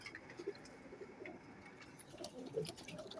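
Pigeons, including a Fulsira Dabas and a Chinese hen, coo softly in a few low, faint calls spread across a quiet background.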